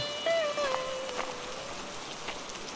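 Steady rain falls in a Bangla animated cartoon, a continuous soft hiss of drops that runs through the whole moment, with a faint whistling tone near the start.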